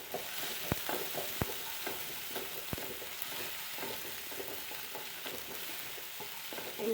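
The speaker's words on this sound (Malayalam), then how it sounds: "ഇഞ്ചി വെളുത്തുള്ളി പേസ്റ്റ് മുരിഞ്ഞ് വരട്ടെ" Crushed ginger garlic paste sizzles steadily in coconut oil, a soft continuous hiss broken by a few sharp clicks of a spoon against the pan.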